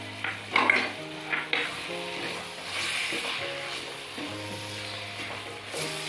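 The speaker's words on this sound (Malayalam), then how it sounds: "അതൊക്കെ പൊടികളൊക്കെ ഇട്ട് കൊടുത്ത് ഇളക്കി കൊടുത്തു" Spice powders stirred into lemon pickle frying in a pan, giving a soft sizzle with scraping stir strokes and light clinks of the utensil, close by and fairly quiet, with no talk.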